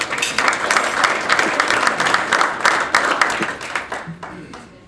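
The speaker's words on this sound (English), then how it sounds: "Let's give Archie a round of applause." Audience applause for a head wrestling coach at a university sports luncheon, a lively burst of many clapping hands that thins out and dies away near the end, with a faint voice at the close.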